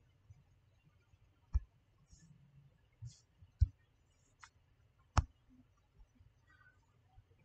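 Computer keyboard typing and mouse clicking while filling in a form on a donation website, heard as a few sparse, sharp clicks spaced a second or so apart in an otherwise quiet room.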